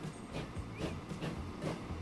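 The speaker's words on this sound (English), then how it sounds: "Here comes our first train. Let's see him slowly chugging his way out of there." A steam train in the Transport Fever 2 video game pulling out of a station, with a soft rhythmic chugging of evenly spaced puffs over a steady low rumble, moderately faint.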